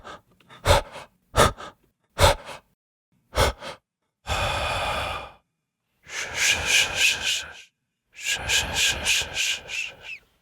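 Close recorded human breathing for ghost sound effects: four quick sharp breaths, then three longer hissing breath cycles with a louder exhale portion, alone with no talk.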